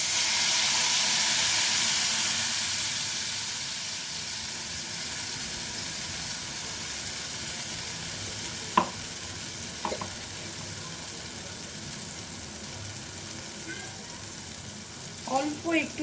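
Spice paste for white chicken gravy fries in a pan over lowered gas, a strong hiss that settles into a steady sizzle, with a few light scrapes of stirring near the end.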